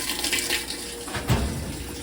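Water rushes steadily through the cold water inlet valve of a Whirlpool washing machine, a continuous close hiss with a brief bump partway through.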